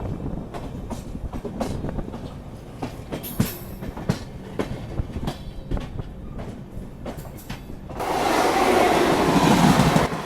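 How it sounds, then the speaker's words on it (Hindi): Kaifiyat Express running on rails, with a steady rhythm of wheel clicks and clacks over a rumbling carriage drone, then a louder rushing wash of noise near the end, as if another train is passing alongside. "और फिलहाल हमारी ट्रेन अब बढ़ चुकी है"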